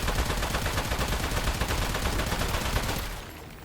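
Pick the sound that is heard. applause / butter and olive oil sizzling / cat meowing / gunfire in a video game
gunfire in a video game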